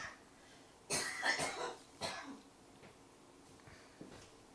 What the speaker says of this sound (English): She's been practicing coughing a lot.